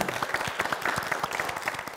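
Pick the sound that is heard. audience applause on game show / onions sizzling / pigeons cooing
audience applause on game show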